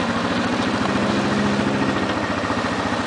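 A truck engine in four-wheel drive cuts donuts, rumbling loud and close with a steady, throbbing low pulse that never lets up.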